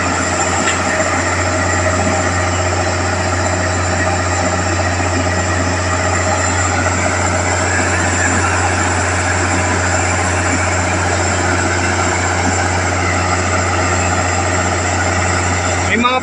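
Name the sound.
PNR train engine running at Alabang end station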